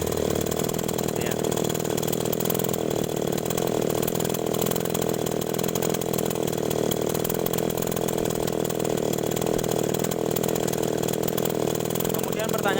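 A small agricultural sprayer engine, one that is hard to start when cold, is started and keeps running with a steady buzzing drone throughout, loud and close, with talk over it.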